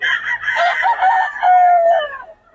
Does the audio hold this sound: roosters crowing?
yes